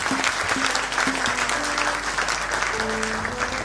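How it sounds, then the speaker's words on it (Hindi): Guests at a musical gathering honouring a singer keep up a steady round of clapping, with faint sustained tones humming beneath the applause. "तालियां कम पड़ रही हैं"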